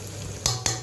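Chicken dropped into a pan of frying ginger and garlic, giving a low continuous sizzle with two quick bursts of spatter and clatter as the pieces go in, close by.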